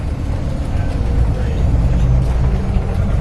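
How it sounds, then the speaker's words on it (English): Interior of a Van Hool transit bus riding through the Berkeley Hills, a loud steady low engine and road rumble with rattles and creaks from the cabin, continuous throughout. "many funny sounds coming from this bus"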